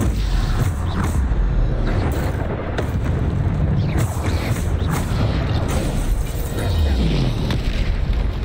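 Bombarda blasting spell cast repeatedly in the Hogwarts Legacy video game: heavy, rumbling booms and bursts pile up over a dense, loud wash of battle noise that never lets up.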